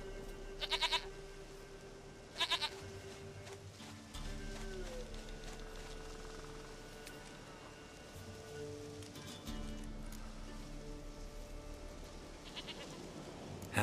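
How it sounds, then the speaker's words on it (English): Goat bleats in The Witcher 3: Wild Hunt sound as sustained, fairly faint calls under rain and game ambience, with a few sharp clicks in between. "Goat of mine, dearest, sweetest goat."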